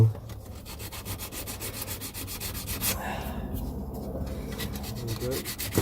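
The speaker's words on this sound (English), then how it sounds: "Just get some sandpaper." Sandpaper is rubbed over the wood of a cigar box guitar in quick, regular back-and-forth strokes, close and fairly quiet, with a short pause partway through before the rhythmic scraping resumes.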